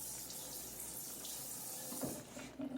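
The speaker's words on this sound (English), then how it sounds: "We rinse off the spoon for all you germaphobes." Water from a kitchen tap runs steadily as a spoon is rinsed under it, a soft continuous hiss with a couple of faint clinks near the end.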